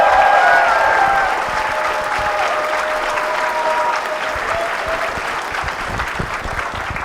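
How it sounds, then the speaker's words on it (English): A convention hall audience at BronyCon 2016 claps in sustained applause, loud at first and then settling to a steady, dense patter with light crowd murmur. "Can we give him a round of applause, please?"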